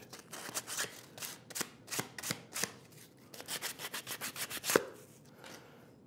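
Light rhythmic scraping of sandpaper on wooden corners of a saw hanger, a series of short quick strokes close by, with brief pauses between bursts.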